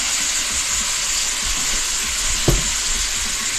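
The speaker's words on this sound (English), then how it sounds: "Saute these up, brown them up on all sides" Vegetables for chicken soup sauté in a hot pan, a dense steady sizzle close by with a single sharp knock partway through and no talking.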